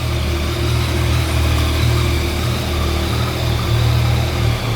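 A motorcycle engine, either a Yamaha MT-09 Tracer or a BMW F750GS with a stainless steel exhaust, idles as it warms up, a loud steady rumble with slight swells of throttle.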